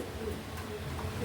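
A pair of pigeons coos softly in a low, rolling murmur, with the cooing running continuously under faint background noise.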